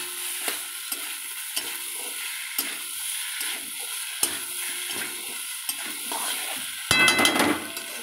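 Masala for a pointed gourd curry being stir-fried in a pan, a steady sizzling hiss with repeated scraping stirs of the spatula, louder clatter near the end, close and alone with no talk.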